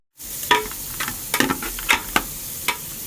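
Chicken chili onion mixture with white pepper, chicken powder and sugar being stirred in a sizzling pan: a handful of sharp, distinct spatula scrapes over a low frying hiss, close and alone.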